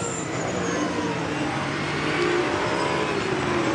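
BMW touring race cars lapping the Vallelunga circuit in a Superstars Series race, a steady dense roar of engines heard at a distance with no talk over it.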